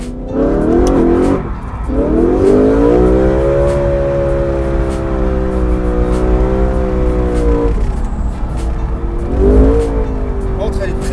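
A BMW M4 revving hard during a track lap, its engine note climbing and falling in long, loud sweeps with a brief drop between them, while someone talks over it.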